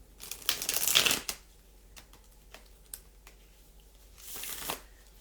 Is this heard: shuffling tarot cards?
yes